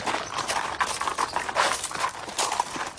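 Several horses' hooves clip-clop on the way to the stables in a steady, irregular rhythm of close, moderately loud hoof strikes.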